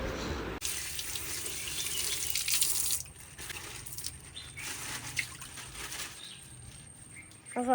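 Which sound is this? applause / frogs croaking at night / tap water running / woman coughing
tap water running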